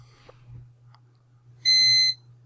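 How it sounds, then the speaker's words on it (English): A single sharp electronic beep from a computer cuts in for about half a second over a low, steady hum, with a few faint clicks before it. "Oh, my computer beeping."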